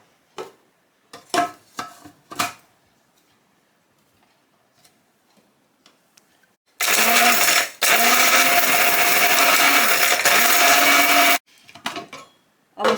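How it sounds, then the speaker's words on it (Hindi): An electric grinder whirs loudly and steadily for about four seconds as it grinds spice masala for mutton nihari, with light clicks and knocks from handling the jar before and after. "अब इस मसाले को पीस लेते हैं।"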